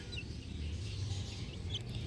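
Faint clucks from sick chickens being dosed with a dropper come through a steady low hum of background noise, a few soft calls scattered over a couple of seconds.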